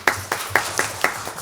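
An audience at a Korean health and welfare policy forum claps to welcome a speaker: a short, steady run of evenly spaced claps from a small crowd, close and without talking.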